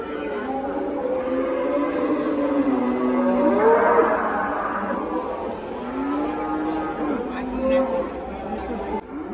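A cow moos in long, low, drawn-out calls, several in a row, with people chattering in the background at a livestock market in Parkent, Uzbekistan.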